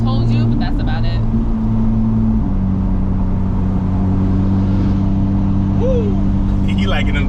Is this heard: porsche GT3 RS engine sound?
yes